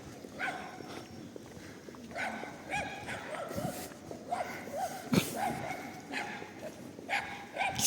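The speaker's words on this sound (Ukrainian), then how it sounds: "Пес гавкає навіть." A dog barks repeatedly in short yaps at a moderate distance, scattered through outdoor street ambience with footsteps and faint voices in central Truskavets.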